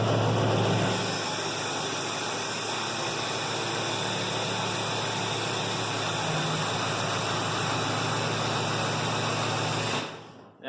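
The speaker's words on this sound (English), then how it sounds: "Cold start, Duramax." A 2012 LML Duramax 3500HD diesel pickup idles after a cold start at about freezing, a loud, steady, rough clatter with a broadband hiss that holds evenly before cutting off near the end.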